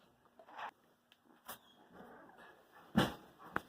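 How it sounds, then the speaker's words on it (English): Little puppies whimper and yip in short, faint bursts scattered across a quiet background, with a slightly sharper cry near the end. "All kinds of little puppies."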